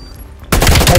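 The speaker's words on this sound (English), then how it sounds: "If this guy come from behind you and shoot you" Gunfire in a shooter video game bursts in abruptly after a near-silent moment, a loud, dense rattle of rapid shots at close range.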